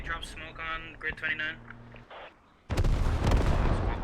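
Mortar carrier fire in a military video game: after a stretch of talk-like tonal sound, a loud, dense broadband rumble of firing bursts in and keeps going to the end.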